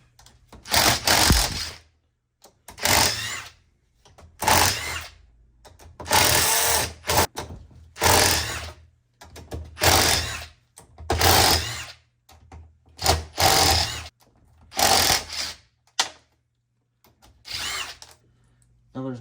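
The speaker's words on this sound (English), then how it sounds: "Maybe I'll just scrape it real quick." A Can-Am X3 differential part is scraped clean with a tool in a series of about a dozen short, harsh, close bursts separated by brief silences.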